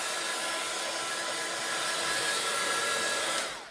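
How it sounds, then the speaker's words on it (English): A heat gun blowing over a gel plate to dry alcohol ink: a steady, close, airy whir that holds evenly throughout, then cuts off abruptly at the end, with no talking. "I don't want to do too much with the heat gun on top of the gel plate, just enough to dry off the alcohol ink."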